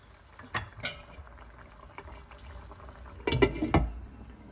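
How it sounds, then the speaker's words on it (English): Egg and potato curry gravy bubbling in a pot, with soft irregular blips and pops and a couple of sharper metallic clinks of a utensil against the pot, close and fairly quiet. "This is bubbling away nicely."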